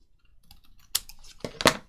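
Scissors snip paper for junk journaling in a few sharp, close cuts near the end, preceded by quiet rustling and handling sounds.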